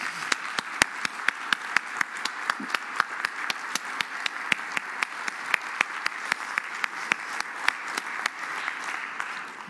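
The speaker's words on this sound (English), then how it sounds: "I would like for us to just share some applause to say thank you." Church congregation applauding during a Presbyterian Sunday worship service: many people clap together in a steady, even rhythm with sharp individual claps standing out, sustained for about ten seconds in a reverberant room.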